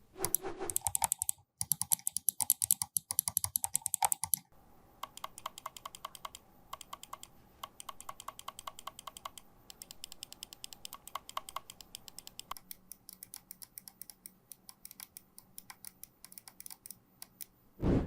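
Bloody W-Series gaming mouse micro switches, rated for 50 million clicks, click in rapid, dense bursts and then in steadier runs of sharp, close taps, with no voices over them.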